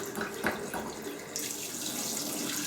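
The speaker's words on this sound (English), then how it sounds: "So I'm going to take a jug and just run my hot tap" A hot kitchen tap runs into a jug, a steady broadband rush of flowing water that grows brighter and fuller partway through as the stream strengthens, close and alone.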